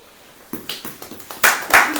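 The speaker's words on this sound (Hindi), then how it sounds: "ताली बजाएं।" A church congregation claps along during a Hindi sermon, starting as a few scattered claps and then building into louder bursts of applause toward the end, heard alone without any speech.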